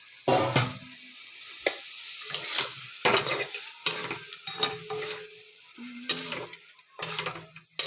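Raw chickpeas simmer in a pan with a little water as part of a Bengali kochu shak dish, with repeated spoon stirring and scraping over a steady close sizzle, and no talk.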